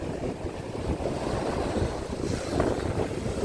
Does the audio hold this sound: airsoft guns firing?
no